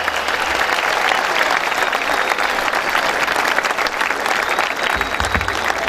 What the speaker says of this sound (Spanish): Eso que se escuchan los aplausos.